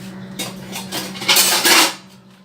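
A regular pressure cooker holding water and trays of methi vadi gets its ordinary lid set on top, giving a couple of short metallic clatters and scrapes over a steady low kitchen hum.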